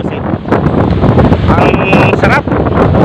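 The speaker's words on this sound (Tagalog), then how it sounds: "Sarap ang hangin dito" Strong wind buffets the microphone outdoors at Rizal Park (Luneta) in Manila, a steady roaring rush, with people talking faintly underneath.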